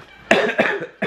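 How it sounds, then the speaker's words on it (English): Three sharp, loud coughs from someone with a lingering cough, each a short harsh burst, spaced about a third of a second apart and close to the listener. "There's my lingering cough and Mom's lingering cough."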